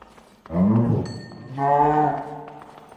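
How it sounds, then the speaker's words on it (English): A mooshroom cow in the Minecraft CrazyCraft modpack gives two loud, drawn-out moos, each lasting about a second, close and clear with a brief pause between them and no talking. "We're almost near the mushroom cow."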